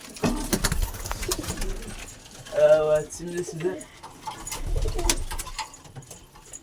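Soft dove-like cooing from a nearby bird, a short burst of low hooting calls in the middle, with someone talking before and after.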